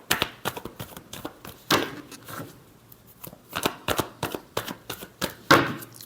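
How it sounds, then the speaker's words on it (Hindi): Tarot cards being shuffled by hand: a series of quick riffling and flicking bursts in an uneven rhythm, close and crisp, with short pauses between the handfuls. "Last shuffle."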